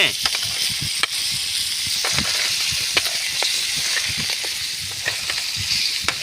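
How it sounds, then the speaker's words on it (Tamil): Crab, added to a hot pan still slightly wet, sizzles loudly while roasting, a steady dense hiss with scattered pops and crackles and occasional stirring scrapes. "அப்படியே நண்டை உள்ளே சேர்த்த வேண்டியதான் லைட்டாக ஈரப்பத்தோடு அப்படி சேர்த்து விட்டோம் நீங்கள் சத்தம் கேட்கா சுரு சுருன்னு"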